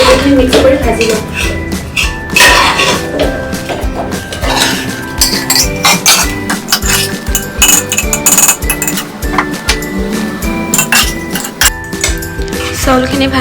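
Rice for a simple vegetable pulao with paneer being stirred and fried in a metal pot, with steady clinking and scraping of a utensil against the pot throughout, busy and close.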